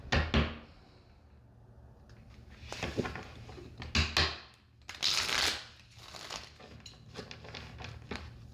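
Tarot cards are shuffled and pulled by hand, giving a series of soft, papery riffles, slaps and shuffles close up in a quiet room, loudest in short bursts.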